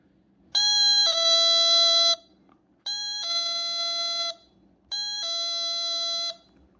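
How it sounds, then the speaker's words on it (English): A homemade electronic doorbell kit circuit plays its two-tone ding-dong chime three times in a row, clear and loud against a quiet background, with short gaps between each electronic chime. "Here's what the ding-dong doorbell will sound like when you put it together correctly."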